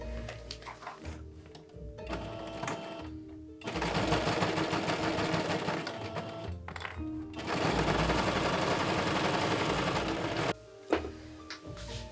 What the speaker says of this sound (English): I just put all the pieces together and I'm just going to sew them.